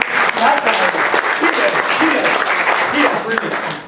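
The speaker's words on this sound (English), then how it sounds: "I think you ought to clap for David Cheek." Dense, steady applause from a crowd fills the clip, a continuous wash of clapping with voices mixed in.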